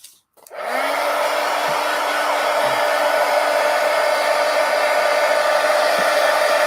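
Hair dryer drying freshly cleaned paint brushes, switching on after a brief click and then blowing in a steady, close, loud whoosh without pause.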